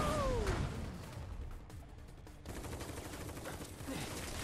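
Rapid enemy gunfire bursts in the Final Fantasy VII Remake video game, dense crackling volleys over a loud continuous background rumble, with no clear speech.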